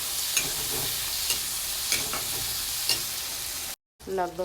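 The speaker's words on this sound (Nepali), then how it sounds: "र यो गोलभेडा हालिसकेपछि यसलाई पनि चलाउनु होला" Tomatoes stirred while frying in a pan for a Nepali gundruk dish, with a steady close sizzle and periodic scraping strokes of the spoon, then a brief cut before the sizzle resumes.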